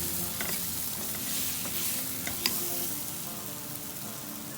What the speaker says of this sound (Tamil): ஸோ இதை நம்ம சேர்த்துட்டு ஜஸ்ட் ஒரு 2 நிமிஷம் கலந்து விட்டுக்கலாம்.